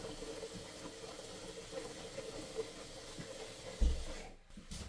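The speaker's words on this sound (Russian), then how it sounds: "Набираю просто из-под крана" Tap water pours steadily into a 10-litre bucket with a continuous soft rush, ending in a thump before the flow cuts off.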